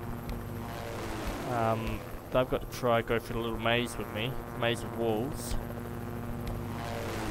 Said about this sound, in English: Man, that plane is loud.